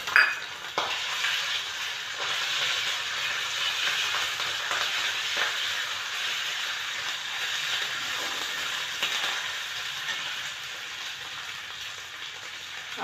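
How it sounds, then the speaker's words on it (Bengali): Ground ginger paste spattering in hot oil, with cumin and dried red chilli already in the pan, gives a steady close crackling sizzle with a few sharper pops, loud at first and then evening out. "আদাটা অনেক তেল ছিটাচ্ছে"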